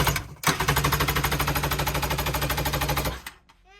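A 1986 Kawasaki X2 two-stroke jet ski engine cranking over without firing, a loud, fast, even mechanical chug lasting about three seconds before stopping abruptly.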